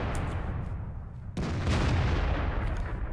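Artillery fire in World of Tanks: a heavy gun shot booms suddenly mid-clip, its broad low blast rolling on loudly after a stretch of rumbling engine-like noise.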